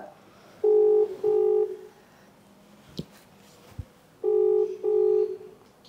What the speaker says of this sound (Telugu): మీ ప్రియకి వీడియో కాల్ చేస్తుంటా